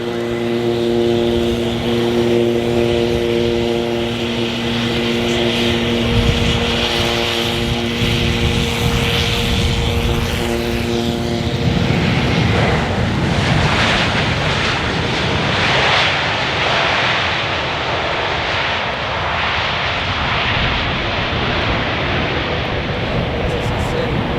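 A propeller airplane lands in a gusting crosswind at the Farnborough Airshow, its steady engine drone loud and close at first, then giving way to broadband roar and wind buffeting as it passes.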